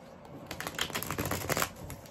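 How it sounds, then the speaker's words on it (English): A deck of tarot cards is riffled and shuffled up close, giving a quick flurry of soft papery flicks and taps that swell in the middle and fade at the end. "let's give these a couple more shuffles"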